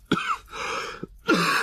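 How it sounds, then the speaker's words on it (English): Two coughing bursts, harsh and throaty, separated by a short pause, close and fairly loud, with no talking. "Cough hard."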